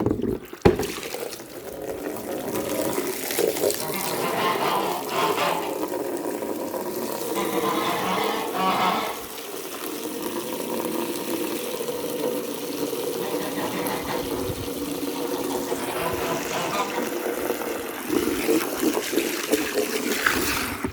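Water is poured steadily into a goose pool to rinse away dirt and dust, a continuous splashing and trickling that goes on for about twenty seconds with only brief dips in intensity.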